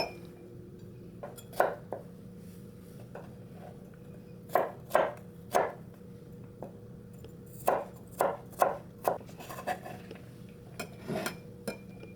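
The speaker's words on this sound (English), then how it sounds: "chop up ginger and garlic into tiny pieces and set them aside into a small container" Ginger and garlic being chopped fine on a board with a knife, irregular sharp close knocks in short clusters over a quiet steady room hum, no talking.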